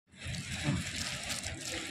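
Water poured out during Eid prayers in Saudi Arabia, a close splashing, sloshing trickle that starts suddenly and continues steadily for about two seconds.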